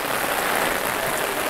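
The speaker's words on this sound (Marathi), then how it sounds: "मुसळधार पाऊस चालू या साईडला" Heavy monsoon rain pours down at Bhimashankar near Pune, a dense, even hiss of drops hitting surfaces, loud and close, with no voices.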